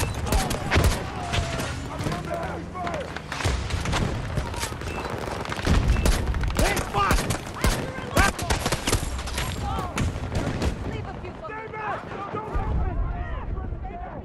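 Rapid gunfire and grenade-launcher blasts in the multiplayer shooter Battlefield 2042, a dense stream of cracks and booms under nearly constant talk from players.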